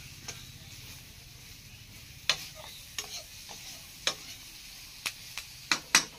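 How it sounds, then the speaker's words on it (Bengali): Potatoes frying in a pan give a soft, steady sizzle, broken by sharp spatula clicks and scrapes that grow more frequent toward the end, with no voices. "আলুটা একটু ভাজা ভাজা মতো হয়ে গেছে"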